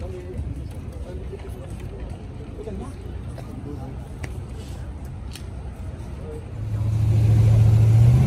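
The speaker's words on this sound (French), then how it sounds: "Belle auto." A collector's car at a classic car gathering on Place Vauban rumbles at idle beneath crowd chatter, then the engine swells into a loud, sustained rev near the end.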